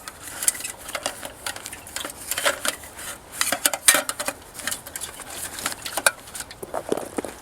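Metal parts of a Stanley canteen cook kit clink and rattle as they are packed into a canteen pouch outdoors, a steady run of small close metallic knocks and scrapes with no talking.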